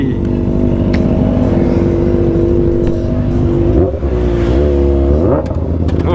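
A Kawasaki ZX25R motorcycle with a LeoVince LV10 aftermarket underbelly exhaust idles and revs up close, its exhaust rumbling and rising in pitch steadily, with no talking.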